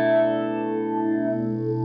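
Matthews Effects The Chemist phaser pedal set to a phaser sound with more resonance, giving a sustained, swirling tone with steady harmonics that sweep slowly, heard alone and fairly loud with no talk.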